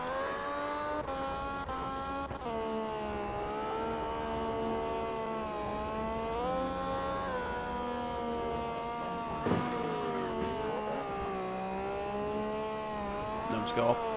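A Honda V6 VTEC engine in the drift game CarX Drift Racing revs continuously, its harmonic whine rising and falling through gear changes with tire squeal at moments, while someone talks over it.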